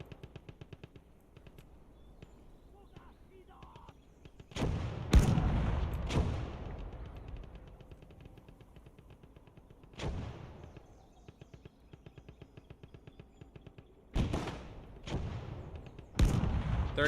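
Several heavy artillery shots from a 37 mm gun in the WWII game Gates of Hell: Ostfront, each a loud broadband boom with a ringing decay, arriving in irregular bursts over quiet battlefield ambience.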